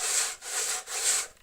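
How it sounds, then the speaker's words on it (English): A hard sanding block is rubbed along the edge of an acrylic glass sheet in three steady back-and-forth strokes, a close, even scratchy hiss with brief pauses between passes and no talk. "Just sand on until you get rid of the saw marks, or the marks of your tools"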